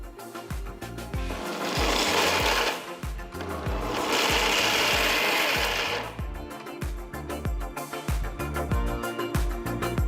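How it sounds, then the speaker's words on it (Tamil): A mixer grinder coarsely grinds roasted peanuts in a mixer jar in two loud whirring bursts separated by a short pause, with a steady rhythmic thumping running underneath throughout. "ஆறுனதும் ஒரு மிக்சர் ஜாரில் போட்டு கொரகொரப்பாக அரைச்சிக்கலாம்."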